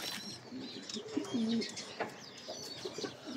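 Racing pigeons cooing at close range, several drawn-out throaty coos with light chirps and a faint flutter, fairly quiet and without talking.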